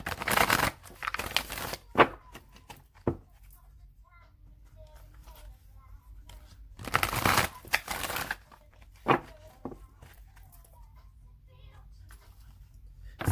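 Tarot cards are shuffled in several quick riffled bursts, crisp and close, separated by quiet gaps and a few soft taps, with a voice speaking briefly between them.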